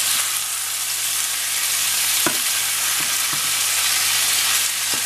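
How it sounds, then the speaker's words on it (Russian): Onion frying in a pan, a steady loud sizzling hiss throughout, with a few faint clinks of stirring. "Видите, зажаривается лук."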